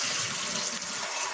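Water runs from a tap into a drink, a steady close hiss and splash lasting about a second with no voices.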